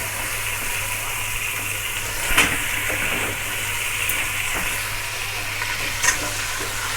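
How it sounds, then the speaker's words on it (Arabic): Meat sautéing in a pot for Eid fatteh gives a steady, loud, close sizzle and hiss throughout, with a few brief scraping stirs cutting through and no talking. "تسمعي بقى صوت الايه، احلى طشه بقى، تسمعي الصوت ده"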